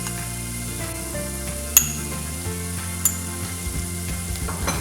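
Ginger garlic paste being stirred into frying onions, a steady sizzle with occasional metallic clinks of the spoon against the pan and a low mechanical hum beneath.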